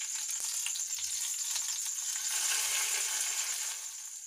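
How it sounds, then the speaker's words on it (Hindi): Hot oil sizzles and crackles as tempering hits a pot of sambar, a steady bright hiss with small pops, fading slightly at the end. "तड़का ऐड कर देते हैं अपने सांभर के अंदर।"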